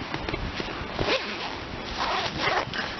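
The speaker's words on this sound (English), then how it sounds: "It's a double zip, so you can zip it from the bottom or the top" A double zipper on a tent door is pulled open during a UK wild camp, giving a close, scratchy ripping rasp in repeated strokes over about three seconds with no talking.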